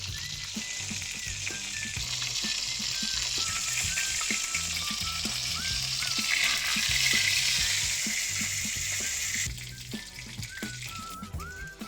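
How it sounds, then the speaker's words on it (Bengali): Chicken-stuffed chillies fry in hot oil over low heat, giving a loud, continuous crackling sizzle close by, with frequent small pops and faint metallic taps from tongs turning them, easing off toward the end. "চিমটের সাহায্যে ঘুরিয়ে ঘুরিয়ে আশপাশগুলো ভেজে নেব"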